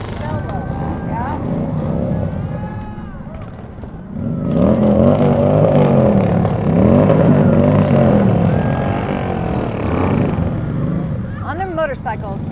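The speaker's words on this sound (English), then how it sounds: "On their motorcycles. I know. What a ruckus." Motorcycles rumble and rev slowly at low speed in a Fourth of July parade in Show Low, engines growling and swelling over several seconds while people talk nearby.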